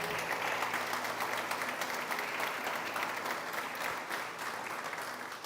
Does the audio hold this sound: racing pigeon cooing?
no